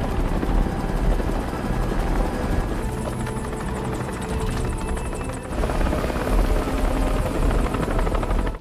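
A helicopter drones steadily overhead, its rotor chop thrumming loud and continuous throughout, with no voices.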